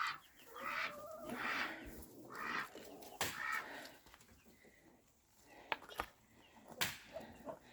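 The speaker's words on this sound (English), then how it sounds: "We haven't had any issues from our little baby chicks that we introduced." Hens and young chicks cluck and chatter inside a backyard coop, a steady close flock murmur broken by a few sharper squawks and rustles.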